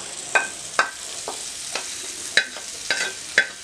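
Fried vegetables are stirred into chicken noodles in a pan over a low sizzle, with about seven clear scraping, clinking strokes of a spatula against the metal at an irregular, unhurried pace.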